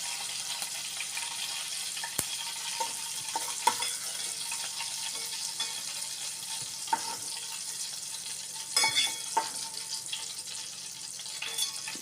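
Capsicum fries in oil in a pan with a soft, continuous sizzle, broken by occasional faint clinks and scrapes of stirring, with no talking.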